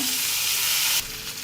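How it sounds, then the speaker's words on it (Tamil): Cumin seeds frying in hot oil for a curd rice tempering, a steady close broadband sizzle that drops slightly in level after about a second and keeps crackling softly. "நல்லா பொரியட்டும்."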